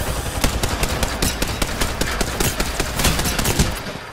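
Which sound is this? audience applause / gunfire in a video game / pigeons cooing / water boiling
gunfire in a video game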